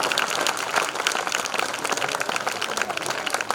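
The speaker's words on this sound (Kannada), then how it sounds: "ಒಂದು ಚಪ್ಪಾಳೆ ತಟ್ಟಬೇಕು" An audience at a village religious discourse bursts into dense, steady applause of many hands clapping together, loud and sustained throughout with no talk over it.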